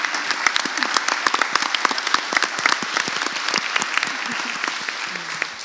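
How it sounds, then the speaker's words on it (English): Audience applause welcoming nine school board candidates at a county candidates forum, a steady dense wash of many hands clapping from a sizable indoor crowd, sustained and fairly loud throughout with no talking over it. "Let's give them a round of applause just to make them feel welcome."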